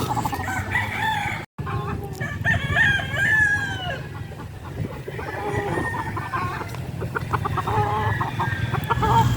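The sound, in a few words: broodcock rooster crowing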